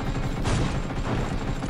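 A sniper rifle in the Knives Out mobile shooter fires a single sharp shot near the start, followed by a dense, roaring wash of battlefield noise.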